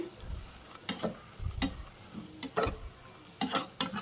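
Mushroom sandwich filling stirred in a pan, a utensil scraping in several distinct sweeps over a faint sizzle, the strokes coming in irregular bursts close by.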